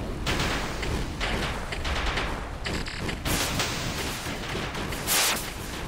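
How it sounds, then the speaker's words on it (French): Rapid bursts of heavy flak cannon fire in a video game crackle continuously, with a sharper blast near the end, all loud and close. "On va voir la puissance du canon flak s'il est bien."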